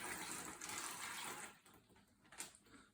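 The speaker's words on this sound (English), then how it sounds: "your next job is to get your jug of water and fill up your bag ever so slightly" Roughly 100 millilitres of water pours from a jug into a large Ziploc bag, giving a soft, splashy trickle. The pour fades after a second or so, and a brief faint splash follows.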